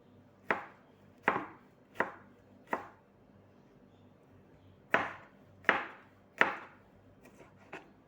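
A knife chops on a cutting board in sharp, evenly spaced strokes, seven or eight knocks with a pause in the middle, close and fairly quiet.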